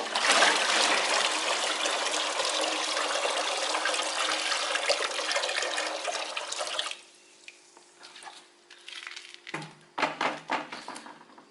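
Water pours steadily and loudly into a container while saltwater is mixed for marine fish, a dense continuous gush for several seconds before it tapers into scattered trickles, splashes and handling noises.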